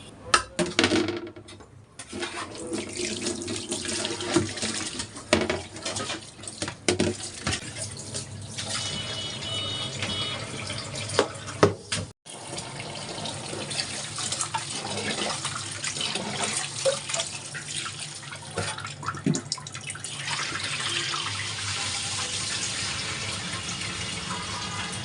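A water tap runs continuously into a sink while dried fish is washed, with clinks of dishes and handling noises throughout and a brief pause midway.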